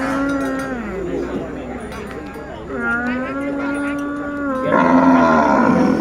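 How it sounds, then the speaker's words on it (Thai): Water buffalo at a rural cattle and buffalo market in Khon Kaen, Thailand give long, drawn-out low moos and groans, close and loud, mixed with people talking and market bustle. "นี่ขี่ควายว่ะ"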